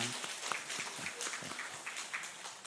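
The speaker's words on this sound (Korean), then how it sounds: "함께 박수로 환영해 주시겠습니다" A church congregation applauds in welcome during a worship service, a soft, steady patter of many hands heard from some distance.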